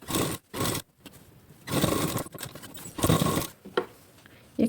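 A sewing machine stitches a plain four-tuck blouse in several short bursts of whirring separated by brief pauses, close and fairly loud, with light handling noises between runs.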